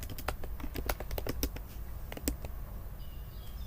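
Typing on a computer keyboard while coding a ReactJS tutorial, with quick irregular clicks clustered in the first two and a half seconds, fairly faint over steady room hum, then quieter.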